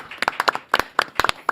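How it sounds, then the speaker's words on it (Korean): Studio audience applause welcoming a former police officer turned lawmaker as a guest on a Korean talk show, bursts of close, fairly loud clapping in uneven clusters. "경찰 출신 황운하 의원님 박수로 맞이하겠습니다."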